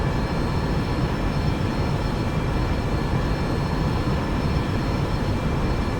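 A Boeing 737-800 jet in flight in the X-Plane 11 simulator gives a steady, dense engine and airflow roar with faint high whining tones, constant in level and unbroken throughout.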